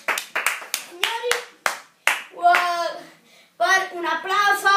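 A handful of sharp, separate hand claps ring out close by for Adriano Celentano, interleaved with an excited voice that keeps talking over and between the claps.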